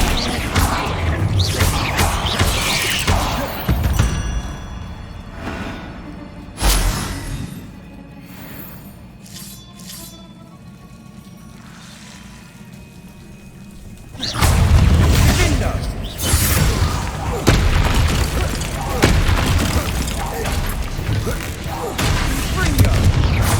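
Bombarda spell explosions in the Hogwarts Legacy video game, a run of booming, crashing blasts and debris bursts, loud and close, with a quieter stretch in the middle and a heavier barrage near the end. A voice speaks amid the action.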